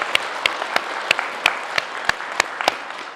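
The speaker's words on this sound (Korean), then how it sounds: "여러분들께 스스로에게 큰 박수 한번 보내시기 바랍니다" At a Buddhist dharma talk on a joint memorial service, listeners give themselves a round of applause, heard as nine sharp, evenly spaced claps in unison, crisp and close over a quiet room.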